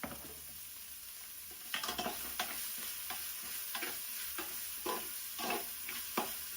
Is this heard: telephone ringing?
no